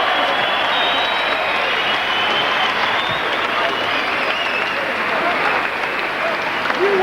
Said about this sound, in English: All sorts of friendly applause in the ring with each other